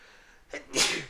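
A single sharp sneeze close by, preceded by a quick inhaling breath, then silence.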